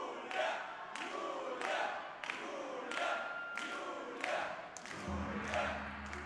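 A crowd at a women's 52 kg judo Grand Slam final in Tyumen cheers in rhythmic bursts about once a second, roughly six swells in a row, followed by a low hum near the end.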